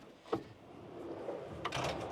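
A slide-out drawer in a 2024 Infinity 15 Escape campervan opens or closes: a short knock followed by a smooth sliding rush that ends in a soft bump, heard close up.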